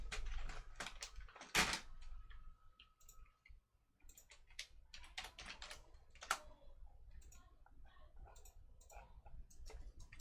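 Rapid typing on a computer keyboard, with irregular bursts of key clicks at close range and a quiet pause partway through, no voices.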